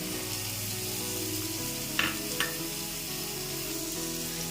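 Capsicum and other vegetables fry in oil for mushroom fried rice, a steady close sizzle with two quick stirring scrapes midway; no talking.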